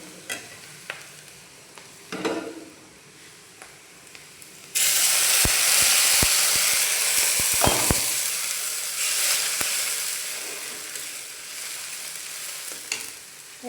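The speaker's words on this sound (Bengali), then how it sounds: "এর মধ্যে দিয়ে দিব পানি।" Quiet stirring and scraping of fried onions gives way to a sudden loud hiss as water hits the hot pan, the sizzle staying strong then slowly easing, with spoon clinks over it.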